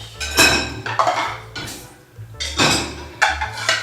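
Ceramic plates clatter and clink in several bursts as they're stacked, close and fairly loud, with short pauses between.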